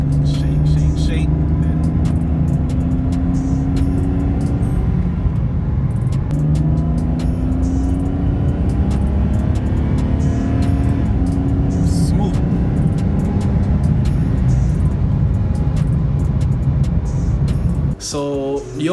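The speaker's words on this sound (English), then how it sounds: "So lightly, pressing on the gas now, and it's like small hesitations" A BMW N52/N54 inline-six engine with a suspected Vanos solenoid fault bucks and hesitates under light throttle, a steady close engine drone with small uneven surges throughout, ending with a brief clatter.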